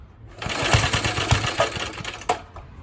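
An Atco Suffolk lawn mower engine runs steadily with a rapid, buzzing putter, loud and close, with no voices over it.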